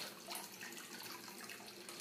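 Water from a homemade outdoor fountain sprays and splashes steadily indoors in a kitchen, a close, continuous hiss and patter with no voices over it.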